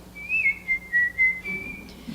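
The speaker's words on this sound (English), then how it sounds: "All of a sudden, she began to whistle." A woman whistles a steady, wavering tune, one continuous melodic line of held notes with small pitch slides, close and clear over a quiet room hum.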